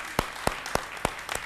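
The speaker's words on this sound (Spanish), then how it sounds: "Se merece un aplauso, ¿verdad?" Applause for a band on a radio program. It comes through as a few sharp, evenly spaced claps, about one every third of a second, over a faint background.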